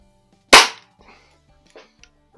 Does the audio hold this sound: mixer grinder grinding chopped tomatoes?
no